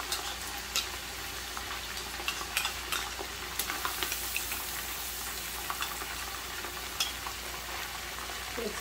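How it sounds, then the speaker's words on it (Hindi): Spices are stirred into mutton yakhni pulao in a pot, soft steady frying hiss with repeated light scraping and clinking of a spoon, fairly quiet and without talk. "अच्छी तरह से मिक्स करेंगे।"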